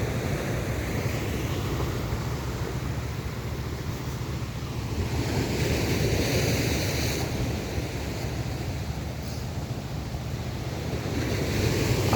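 Rough surf breaks continuously along a beach at Tigbauan, Iloilo, a loud, steady wash of waves mixed with gusting wind noise on the microphone.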